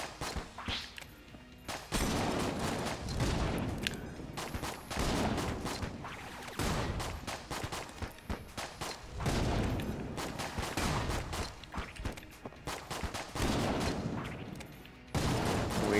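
Gunfire in the video game Enter the Gungeon comes as dense, loud bursts of rapid shots in repeated volleys with short pauses between them, and no one talks.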